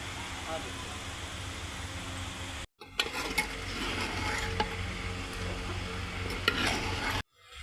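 Aloo gobi frying in a pot, heard as a continuous close sizzle with clinks and stirring scrapes, cut by two brief silent gaps.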